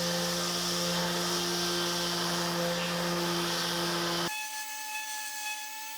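A Milwaukee cordless brushless sander working on wooden dovetail joints, producing a loud, continuous whirring hum with gritty abrasive noise that cuts off abruptly, leaving a quieter motor drone.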